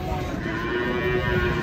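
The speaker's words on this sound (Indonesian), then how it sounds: "Sapi." A cow lets out a long, steady moo, droning at a single pitch, heard fairly close over a constant background rumble.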